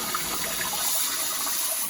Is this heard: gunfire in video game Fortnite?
no